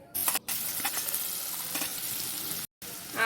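Sliced onion sizzles steadily in hot mustard oil with nigella seeds, a dense, continuous frying hiss close up that cuts out briefly twice.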